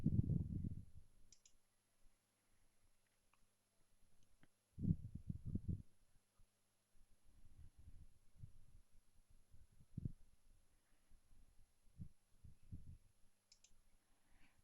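A computer mouse clicks quietly near a desktop computer, a few soft, sparse clicks and thumps spread out over a low background hum.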